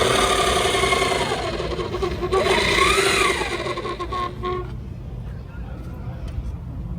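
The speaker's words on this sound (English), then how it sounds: "let's listen to that cool burnout" A rear-engine electric dragster does a burnout, giving a loud, sustained whine that sweeps upward and then falls away over several seconds, with heavy background roar and no talk.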